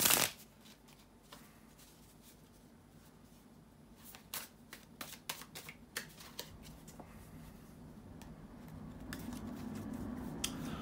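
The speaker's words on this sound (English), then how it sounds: "bear with me for just a second here to shuffle the tarot cards" Tarot cards being shuffled in repeated quick riffling bursts, crisp papery flutters close up with a brief pause between shuffles.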